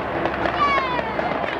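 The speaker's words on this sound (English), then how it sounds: "And there goes the farewell fireworks display." A farewell fireworks display goes off at midnight over County Hall in London, a dense continuous crackle and rumble of bursts with a faint whistling streak, loud and steady throughout.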